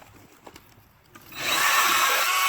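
A Milwaukee M12 Hatchet cordless chainsaw starts cutting wood outdoors beside a brush pile; a few quiet knocks and rustles give way to a loud, steady high-pitched whine of the chain biting through the log.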